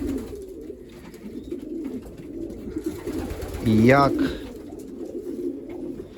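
One pigeon coos once, fairly close, while a person talks quietly nearby.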